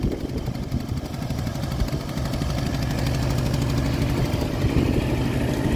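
A Baotian BT125T scooter engine runs steadily at idle, close and loud, with a continuous throbbing rumble that holds even throughout.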